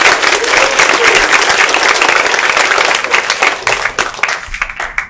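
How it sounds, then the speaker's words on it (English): Loud, close round of audience applause welcoming a speaker at a tech talk, thick steady clapping that thins toward the end as it dies away. "Let's give him a round of applause."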